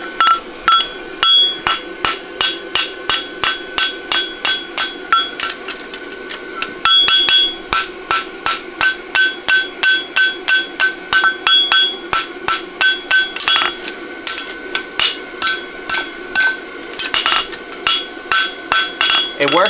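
Steady, rapid hammer blows ring on a steel horseshoe held flat on an anvil, dozens of sharp metallic strikes close up in a fast regular rhythm with brief pauses, during fullered and stamped horseshoe making.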